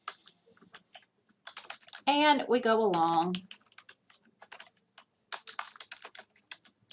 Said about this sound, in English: as you're typing